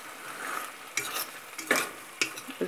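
Chicken livers with onion fry in a pan, giving a steady close sizzle broken by a few louder stirring scrapes and crackling bursts.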